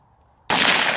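A single sharp gunshot cracks out loud and close after a brief quiet moment, its broad blast lingering to the end.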